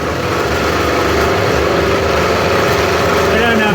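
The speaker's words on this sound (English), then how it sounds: "This is the last roughing out cut at 30 thou" A milling machine takes a 30-thou roughing cut on a handmade front fender mount for a Harley Dyna chopper, giving a steady, loud mechanical whir with fine cutting chatter throughout, close up and continuous.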